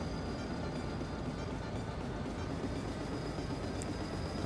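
Hopper wagons rolling along the rails in the Train Simulator 2016 video game, a faint, steady rolling rumble with a thin continuous whine, heard alone without talk.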